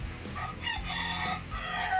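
A rooster crows over steady outdoor background noise, its drawn-out call fairly close and clear.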